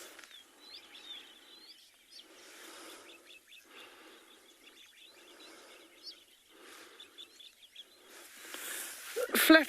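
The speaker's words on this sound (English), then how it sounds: "You can hear the wattled starlings are probably the most vocal of the birds in the area at the moment as well." Wattled starlings call on a South African morning safari, a string of thin high chirps and whistles running throughout, while someone talks at moderate level over them in bursts, ending with a louder rustle.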